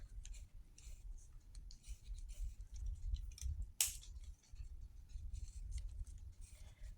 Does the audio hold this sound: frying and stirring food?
no